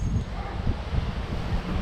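Low, rumbling wind in the Sacramento Mountains buffets the microphone in uneven gusts, steady throughout with no voices.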